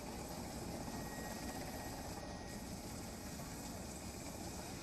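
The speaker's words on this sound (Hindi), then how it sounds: "हेलीकॉप्टर सैलाब के बीच धारा में डूब रहे मकान की छत से एक एक करके लोगों को रेस्क्यू करने लगे" A helicopter drones steadily overhead during a monsoon flood rescue, its rotor thrum and engine noise filling the scene at a constant, fairly distant level with no voices.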